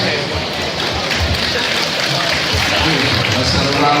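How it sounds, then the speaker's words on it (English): Audience applause in the arena at a live boxing event at an ice house venue in Laurel, Maryland, a steady, dense wash of clapping and crowd noise that fills the whole stretch at a constant loud level. "Let's have a round of applause for him."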